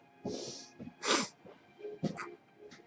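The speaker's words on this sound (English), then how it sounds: "Did someone just sneeze?" A person sneezes amid quiet, with short bursts of breathy noise and a snort-like exhale, close and fairly faint, spaced over a few seconds.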